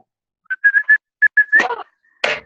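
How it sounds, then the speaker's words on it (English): A person whistles a short series of clear, close, loud notes, followed by a couple of brief rustling bursts outdoors. "It was a whistle"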